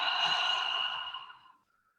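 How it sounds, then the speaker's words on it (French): A long, steady breath exhaled through the mouth during a relaxation breathing exercise, close and soft, trailing off into quiet after about a second and a half. "Expire par la bouche et relâche."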